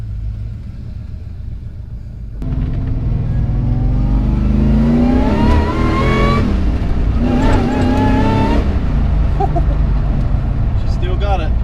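A Holden VH SL/E engine rumbles while driving, swelling into a rising rev as the car accelerates, then settling and climbing again. The engine is loud and close, with voices talking over it.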